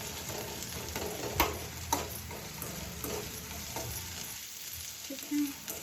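Food frying and browning in a pan, a continuous sizzle with a few sharp stirring knocks, fading slightly toward the end, no talking.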